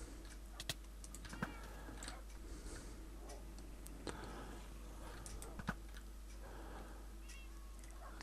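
A cat in the Minecraft video game, hardcore mode, meows a few times amid sharp clicking ticks and a low steady hum, all fairly faint.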